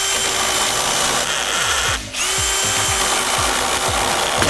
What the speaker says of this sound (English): This is a chainsaw attachment. So you don't have to buy an actual chainsaw.